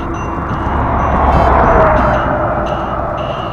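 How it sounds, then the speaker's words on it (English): A car passes a cyclist on an open road, a broad rushing whoosh that builds, peaks near the middle and fades away, set against steady wind and road noise. "Let's let this car go by."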